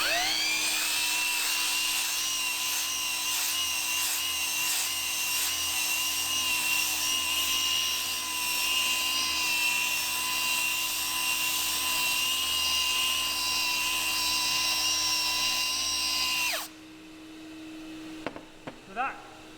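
A power sander grinds steadily across a Corian solid surface panel with the dust collector removed, a loud continuous whine holding for about sixteen seconds before cutting off, followed by a few faint clicks.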